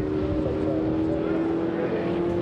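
A front-wheel-drive VW Scirocco drag car at Santa Pod Raceway roars at steady high revs with its tyres spinning, a loud sustained engine drone under a commentator's voice.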